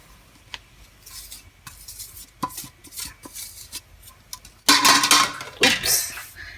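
Sugar and semolina poured into boiling milk in a pot for semolina pudding, with clinks of spoon and pan, brief scraping taps, then a louder burst of pouring and stirring near the end.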